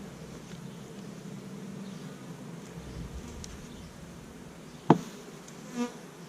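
Honeybees from a newly installed colony buzzing steadily during a hive inspection, a dense droning swarm sound with a sharp knock of hive equipment midway and faint handling noises.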